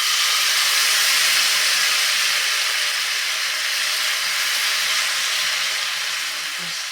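Bajra flour dhirda batter sizzling in hot oil, a loud, steady broadband hiss that holds evenly for several seconds and eases slightly toward the end, with no voices over it.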